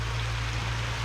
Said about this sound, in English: but it is currently raining